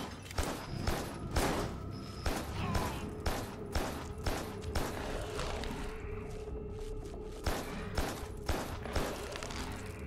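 Gunfire crackles in a video game, with bursts of rapid shots repeating in clusters over ten seconds, loud and close against a steady background hum.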